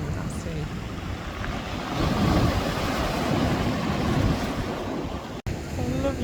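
Sea waves wash onto the beach at Portofino, Italy, a continuous broad surf hiss with wind buffeting the microphone and no clear voices over it.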